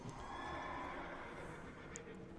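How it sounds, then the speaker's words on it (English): Horse whinnying and hoofbeats in a video game, heard in the middle distance over a steady ambient game bed. "let's get on a horse and find out"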